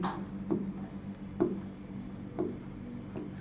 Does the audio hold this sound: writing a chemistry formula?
yes